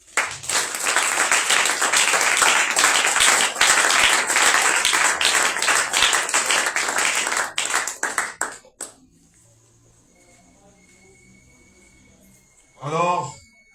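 A church congregation claps and cheers to acclaim the Lord, a loud sustained wave of applause that cuts off sharply after about eight seconds, followed by quiet and a short burst of noise near the end.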